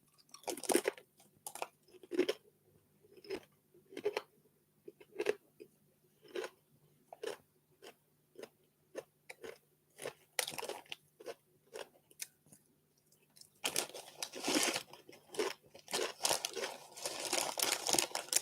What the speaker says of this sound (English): They're very noisy crisps